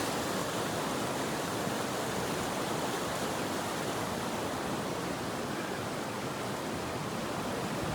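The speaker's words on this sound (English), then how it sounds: "the deafening sound of the actual water" Floodwater of the Avon River rushes past its broken banks, a loud, steady, unbroken roar that fills the whole stretch without pause.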